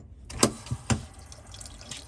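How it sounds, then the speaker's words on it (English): Water escaping from a leaking pipe fitting during a tank install, heard as a few brief splashy spurts and drips at close range, followed by a faint trickle. "We have our first leak leaking right out this fitting"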